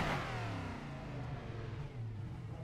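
Race car engine in a sim racing video game revving hard at first, then holding a steady, buzzy mid-pitched drone that dips and rises slightly, loud and alone.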